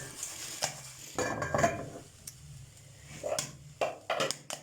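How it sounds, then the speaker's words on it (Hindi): Chicken butter popcorn shaken in a pan on the stove, giving bursts of rattling, scraping and light metallic clinks that come and go, fairly close. "अभी चूल्हा ऑन है नीचे, मैं इसको इस तरह हिला रही हूँ ताकि अगर कोई है तो वो भी बन जाए"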